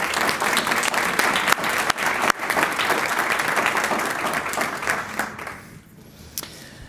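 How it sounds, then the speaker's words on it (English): Audience at a Lakeville area schools board of education meeting applauds steadily, a dense wash of clapping that runs several seconds before tapering off near the end. "A round of applause for Dr."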